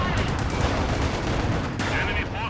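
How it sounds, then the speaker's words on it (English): Sustained dense barrage of distant gunfire and rolling explosions from a zeroing artillery strike in Company of Heroes 2, a continuous loud battle din with a voice speaking faintly underneath. "Zeroing artillery's been called in."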